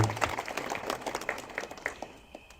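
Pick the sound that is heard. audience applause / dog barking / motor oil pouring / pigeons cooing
audience applause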